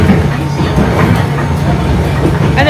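A small train running through Kyoto, Japan, rumbles loudly and close with a steady low hum and rhythmic clatter throughout, without talking.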